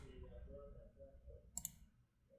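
A computer mouse gives two quick, faint clicks close by, in an otherwise quiet indoor setting.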